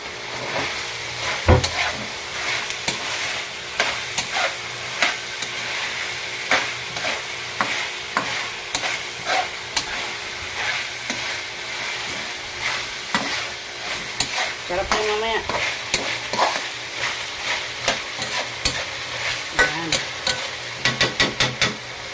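A spoon scrapes and clicks steadily against a pan while ingredients for Filipino igado fry in oil, with a constant low sizzle under the repeated stirring strokes.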